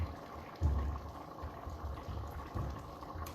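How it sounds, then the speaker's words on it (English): A pot of salted pasta water for pasta e fagioli bubbles at a rapid boil in a kitchen, a close, steady churning rumble with irregular surges and no talk. "So this is up to a pretty rapid boil, but I'm gonna turn it down to like a medium high"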